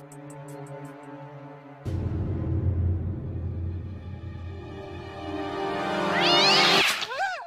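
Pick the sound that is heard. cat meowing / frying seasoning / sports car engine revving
cat meowing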